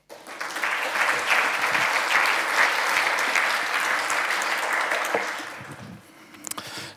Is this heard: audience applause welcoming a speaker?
yes